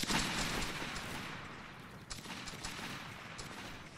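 A musket volley from line infantry in a Roblox Waterloo battle between the 95th Rifles and 33rd Regiment of Foot, a crackling burst of many shots at the start that rumbles and fades, with scattered later pops.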